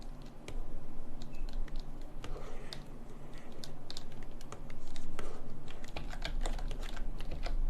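Quiet, steady computer keyboard key presses while working in 3D modelling software: a dense run of small clicks and taps over a low room hum, with no talking.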